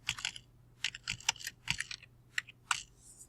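Typing a file name on a computer keyboard, a quick run of crisp clicking keystrokes in short irregular bursts, close and clear with no talking.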